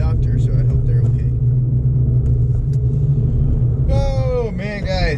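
Heavy road traffic rumbles close by as a giant truck and a fast car pass, a steady low engine drone under someone talking, with another voice breaking in near the end.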